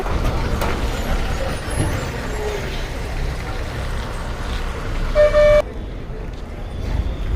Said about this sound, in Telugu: చూస్తున్నారు ఇప్పుడు వచ్చే బస్సు ఆర్డినరీ